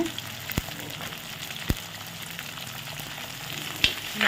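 Eggplant sautés in a pan for a fish kuzhambu curry, giving a steady crackling sizzle punctuated by a few sharp knocks of stirring, close and unaccompanied by talk.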